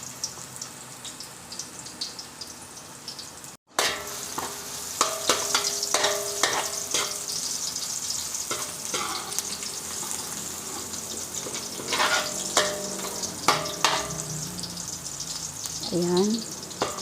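Garlic sizzles steadily in a hot pan for a Valencian rice dish, with repeated clatter of a spatula stirring against the pan over a continuous frying hiss; a brief silence near the start, then constant close sizzle.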